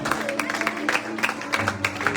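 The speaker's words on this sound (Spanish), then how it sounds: "Denle un aplauso al Señor." Church congregation applauding and clapping together after a call to praise, a steady dense patter of many hands sustained throughout at moderate loudness.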